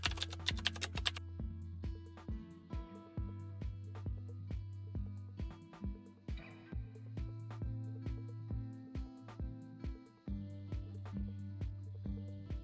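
Typing on a computer keyboard, a steady run of crisp key clicks in irregular bursts with short pauses, close and clear over a low constant hum.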